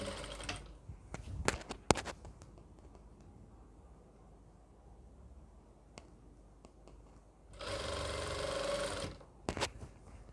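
A sewing machine stitching an Afghani salwar runs one steady burst of about a second and a half, set among scattered clicks and handling taps in a quiet room.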